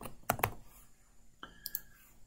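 A computer mouse clicks a few times in quick succession, a sharp double tap near the start and another pair later, close and fairly quiet with no talking.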